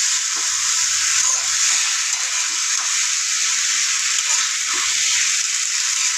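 Chopped tomatoes fry in a hot pan for chowmein, producing a loud, even hiss and sizzle that holds steady from start to finish, nearby and without speech.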